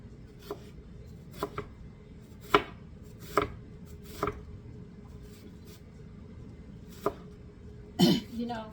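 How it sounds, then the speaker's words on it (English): Onions are chopped with a knife on a board in a home kitchen while stuffed bell peppers are being made: about ten sharp, irregular knocks, close and fairly quiet, with a scrape-and-shuffle near the end. "I'll get back to chopping onions."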